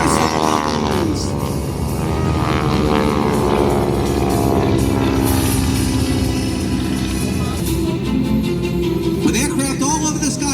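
Propeller aircraft of the Sky-Typers team flying a bomb burst maneuver at an air show, a loud, continuous drone of engines throughout with an announcer's voice over it.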